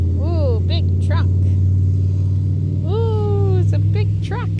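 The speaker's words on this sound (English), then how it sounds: "Ooh, it's a big truck." A big truck rumbles past near a lakeside beach, a loud low steady engine drone close by, while a person talks over it with rising, sing-song speech.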